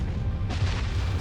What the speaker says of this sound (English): the collapse of the iron core blows apart the rest of the star in a colossal explosion